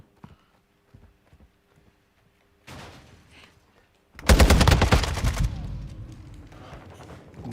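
Gunfire in Call of Duty Modern Warfare II: a few quiet scattered taps, then a short burst, and a loud rapid automatic volley near the end with lingering echo.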